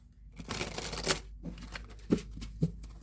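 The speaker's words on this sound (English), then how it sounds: "And while I'm shuffling these cards" Tarot cards are shuffled by hand in quick riffling bursts with soft slaps between, close and fairly quiet, no voices.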